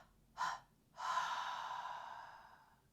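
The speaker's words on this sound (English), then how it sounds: "And then a 3-part exhale out the mouth." Breath let out through the mouth in a three-part exhale: a short puff, a pause, then a longer sustained airy release that fades, close and quiet with no talk.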